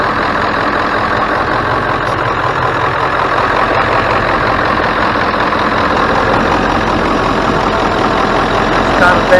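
A Powerstroke diesel truck engine idles with a steady, loud, rumbling drone from start to finish, and speech-like sound may be mixed in beneath it.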